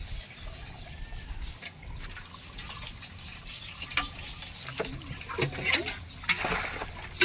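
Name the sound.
drinking water filling a container from a tap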